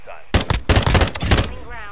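Shotgun blasts in Call of Duty multiplayer, several loud close booming shots fired in rapid succession with sharp attacks and short decays, then quiet game ambience.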